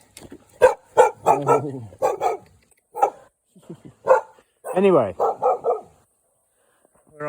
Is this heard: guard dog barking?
yes